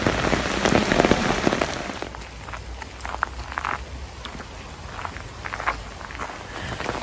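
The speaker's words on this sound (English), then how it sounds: "It's raining so badly" Heavy rain pours down on a walk outdoors, a loud dense hiss at first that eases into steady patter with scattered footsteps and splashes, no talking.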